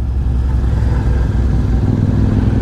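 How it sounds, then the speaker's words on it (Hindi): A Super Meteor motorcycle fitted with an aftermarket exhaust rides on a group ride, giving a loud, close, steady low engine rumble with no voices. "ये चला अपना सुपर मीटियोर"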